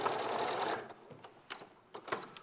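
A sewing machine stitching around the top of a fabric purse runs in a loud continuous whir, then stops and gives a few short clicks and bursts.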